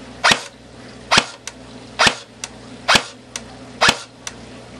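A Classic Army Sportline airsoft rifle powered by a 9.6 volt battery fires single shots, five sharp, evenly spaced snaps with a fainter click after each, close and clear against a quiet background.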